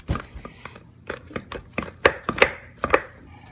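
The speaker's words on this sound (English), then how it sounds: "I'm just gonna cut into it, make some steaks" A knife chops through a dry-aged beef roast on a board, cutting it into steaks: about a dozen sharp, irregular knocks and thuds, close and fairly loud, the last few hits harder and crisper.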